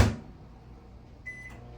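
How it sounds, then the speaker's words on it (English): A kitchen microwave oven is running with a quiet, steady hum after a brief thump at the start, and a soft higher tone appears near the end. "the microwave for a few more seconds,"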